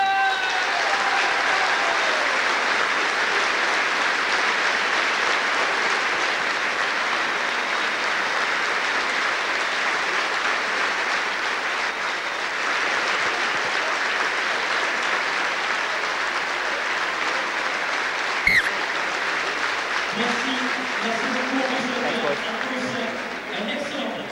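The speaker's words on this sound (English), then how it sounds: "there will be a minute's applause for Raoul Barrière, which will be observed by the crowd here at Stade Toulousain" A stadium crowd at Stade Toulousain gives a sustained minute of applause at a France v England rugby match, steady dense clapping filling the ground, with a brief sharp knock near the end and murmuring voices joining late.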